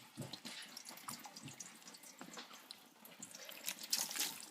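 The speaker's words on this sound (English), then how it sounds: "let the water go through the holes in the strainer, or sieve if you're using a sieve" Cooked kale and its water being poured into a kitchen strainer, water splashing and trickling through the holes in uneven bursts, fairly faint and close, with no talking.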